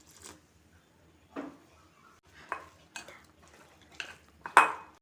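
Sweet corn pakoda batter with red chilli powder and salt is mixed by hand in a bowl, giving intermittent soft scrapes and clinks spread across several seconds, close and fairly quiet.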